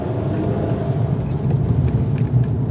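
A 2022 Ford Maverick with all-wheel drive rolls along a sandy off-road trail, its steady engine and tire rumble heard from inside the cab, with faint rattles over the bumps.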